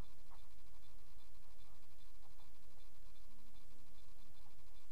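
Chalk or marker writing on a board during a mathematics lecture on random variables: faint, soft scratchy strokes buried in steady room hiss, no voices.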